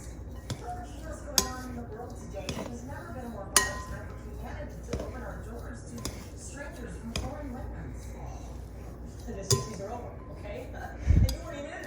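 Chicken taco ingredients tossed in a bowl with pepper, sharp clinks and knocks of a utensil against the bowl at irregular intervals, with a louder clatter near the end under steady background noise.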